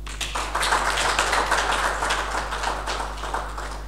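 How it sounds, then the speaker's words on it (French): An audience at a press conference applauds, a steady patter of many hands clapping at moderate loudness over a low hum, with no talking. "Bien, on peut applaudir encore."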